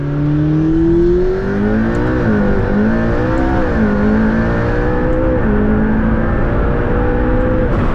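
A McLaren P1 hypercar accelerating hard from inside the cabin, its engine note climbing steadily through several gear changes with brief dips between them, loud and close with a constant rushing background.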